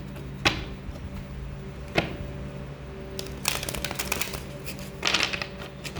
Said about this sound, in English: They want me to shuffle one more time.